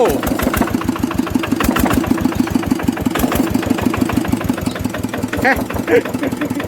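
A small 8.5 hp Yanmar diesel engine idles with a steady, fast chugging knock, close and moderately loud, with a voice briefly heard near the end.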